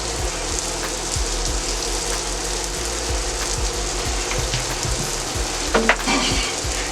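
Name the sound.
onions and vegetables frying on a griddle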